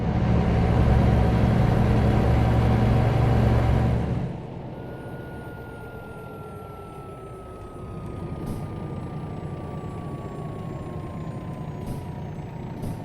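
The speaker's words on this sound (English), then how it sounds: "Sounds like a high-pitched whistle when I hit my brakes." A Volvo truck in American Truck Simulator rumbles loudly, then its engine drops away as a thin high-pitched brake whistle sustains and slowly slides lower over a steady road hum, with occasional faint beeps.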